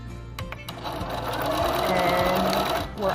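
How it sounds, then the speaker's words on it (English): Sewing machine stitching a quarter-inch seam, a close, steady mechanical whir of the needle running continuously, with a few clicks at the start and light talk over it. "we're going to sew a 1/4 inch here"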